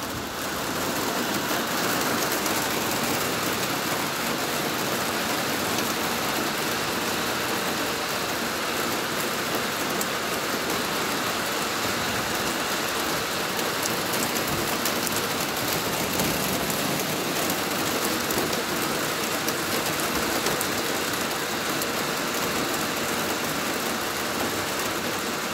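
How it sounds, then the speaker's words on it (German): Heavy summer downpour, dense steady roar of rain pelting surfaces, loud and unbroken throughout with no talking. "Schon Platzregen."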